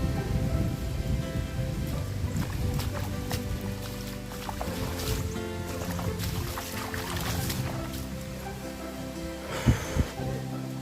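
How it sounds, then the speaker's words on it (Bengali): Water flowing and splashing at Khoiyachora waterfall in Mirsarai, Chittagong, a soft steady wash with scattered drips and a couple of sharper knocks near the end. "জায়গাটা আসলে খুবই নীরব, দেখছেন পানি পানি শব্দ"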